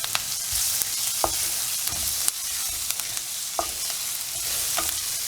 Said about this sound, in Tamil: இந்த வெங்காயமே இன்னும் கொஞ்சம் கூட வதங்கணும்